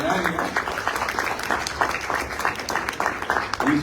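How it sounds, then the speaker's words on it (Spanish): Audience applause welcoming three presenters at a Puerto Rican talk on guano mining in northern karst caves, moderately loud clapping running throughout with a voice talking over it. "Fuerte el aplauso para los 3"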